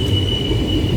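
A passenger train of the Mannargudi–Mayiladuthurai unreserved express stands at an old station, giving a steady low rumble under a sustained high whine, continuous and close.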